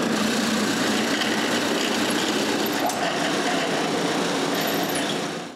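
Drill boring screw pilot holes into wood, a continuous high whirring buzz held steady for several seconds before winding down at the end.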